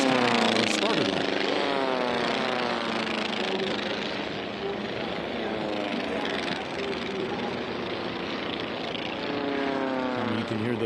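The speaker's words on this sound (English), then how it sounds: "can hear those beautiful engines and propellers as they come by" Formula One race planes with Continental O-200 engines pass by during a national championship air race, their droning engines and propellers rising and falling in pitch as they sweep past, with a commentator talking over them.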